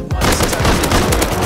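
Rapid, loud gunfire from the video game Rust fills the moment, a dense volley of overlapping shots with no break.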